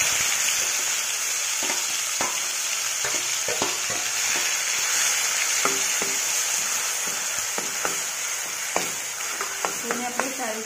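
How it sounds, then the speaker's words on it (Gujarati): Ground onion paste frying in a pan with curry leaves for a cluster bean gravy dish, a loud steady sizzle broken by repeated spoon taps and stirring clicks, close and with no talking. "હવે આપણે એમાં પીસેલ ડુંગળી નાખીશું"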